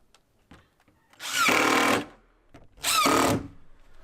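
A power drill drives screws into the wooden roof of an outdoor shower under construction in Alaska, with two loud, sustained whirring bursts of about a second each, separated by a short pause with faint handling noises.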